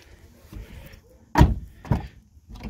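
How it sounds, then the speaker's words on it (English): A Toyota RAV4 car door thunks nearby with a dull low impact as it opens, then a second softer thud follows, with faint rustling before it. "You open the door"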